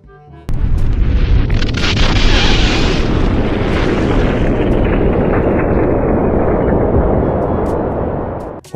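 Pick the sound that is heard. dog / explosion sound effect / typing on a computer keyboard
explosion sound effect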